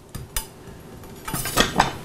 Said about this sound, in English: fun garlic chopping.